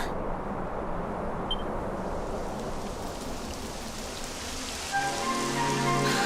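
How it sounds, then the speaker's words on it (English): Rain falls steadily in Dragon Quest XI, a dense close hiss of drops on the ground, with a faint musical tone rising at the end. "It would have to go and start raining, wouldn't it?"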